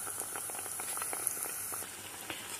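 Food fries quietly in a pan, a soft, continuous bubbling crackle with faint scattered pops and no voices.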